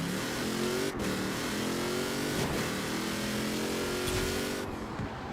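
A car engine in the racing game Forza Horizon 4 revs and accelerates continuously, its pitch climbing through several gear shifts with short breaks between them, loud and close throughout.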